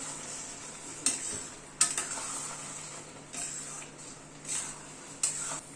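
Egg bhurji with crushed kasuri methi being stirred in a pan: a few sharp metallic spoon clinks against the pan over a faint low sizzle, quiet and close, no talk.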